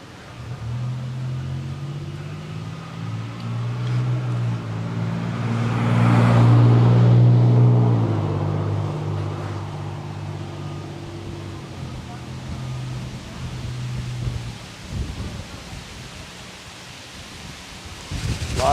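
Wind gusting outdoors at a plein air painting spot beside an old Victorian house, rising to a loud rumbling swell midway and then easing, with a steady low drone underneath.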